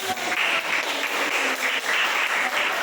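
Classroom applause after a student group presentation on healthy food, a lively patter of many hands clapping at a steady level for a few seconds.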